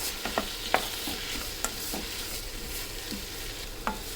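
Tomatoes sauté for a village-style dry fish curry, giving a steady close sizzle broken by scattered scrapes and taps of a stirring spoon.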